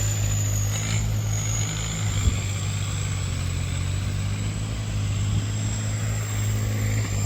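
A steady, droning Kubota M8808 tractor engine rumbles continuously nearby, with a low heavy throb and a thin high whine over it.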